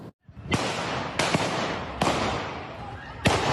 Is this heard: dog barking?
no